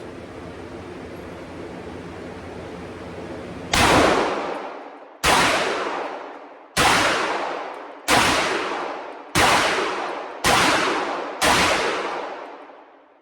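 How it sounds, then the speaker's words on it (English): Benelli M4 semi-auto shotgun firing slugs at an outdoor range target: seven loud, sharp blasts spaced roughly a second and a half apart, each with a decaying tail, after a few seconds of steady hiss. "I'm shooting slugs right now to start off"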